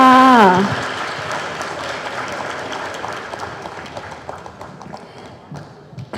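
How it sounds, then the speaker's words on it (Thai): Audience applause at a Thai public event follows a woman's spoken introduction at the very start, a broad clapping wash that gradually thins and fades. "และนี่คือคุณเบนจาอัปันขอขอบคุณและขอเสียงปรบมือด้วยค่ะ"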